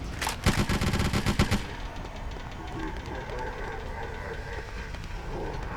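Rapid automatic gunfire from the Bloodrayne video game rattles in a loud, fast burst of shots for about a second and a half, then gives way to quieter game noise while people talk.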